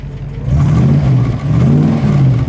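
A 1956 Dodge Custom Royal Lancer V8 revs twice up close, each a loud rising and falling engine swell in quick succession, with no talking.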